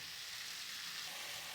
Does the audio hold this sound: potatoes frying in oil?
yes